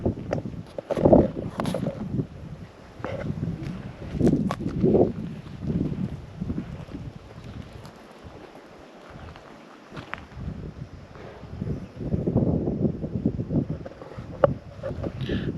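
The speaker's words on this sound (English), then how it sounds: "It's a little bit windy" Gusty wind buffets the microphone at Redbank Gorge's ridge-top campground, rumbling unevenly in strong and weaker surges throughout.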